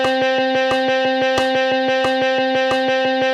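Twelve quick strums per bar on an electric guitar, sixteenth notes at 90 BPM in 3/4, with a clear accent on each beat. The bright chord rings close and loud without any talking.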